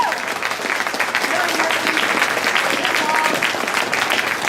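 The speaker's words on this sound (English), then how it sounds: "So a big round of applause." Steady, dense applause from an audience at an elections forum fills the room continuously for several seconds, loud and close throughout.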